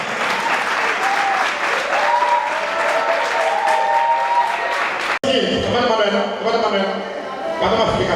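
Party members at a political meeting clap together in a sustained, dense round of applause. Voices ring out over it, and after a brief cut the clapping continues beneath louder, overlapping talk.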